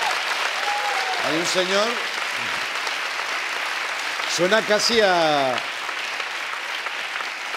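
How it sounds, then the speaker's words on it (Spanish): A Spanish late-night talk show studio audience breaks into applause and cheering, a steady wash of clapping that runs throughout while someone talks over it. "Pues eso merece un aplauso, señores."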